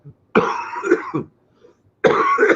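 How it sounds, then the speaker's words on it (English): A person coughs, first in a quick cluster of harsh, close coughs, then after a brief quiet pause, another burst of coughing. "Now, COVID cough."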